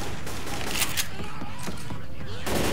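An AK rifle fires in the video game Left 4 Dead 2, a fast volley of gunshots crackling under constant game noise and talk, with a louder burst near the end.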